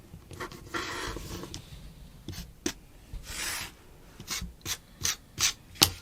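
A fabric quilt block being trimmed gives close rubbing and scraping sounds, then a run of short, sharp cutting strokes that speed up toward the end, with no talk.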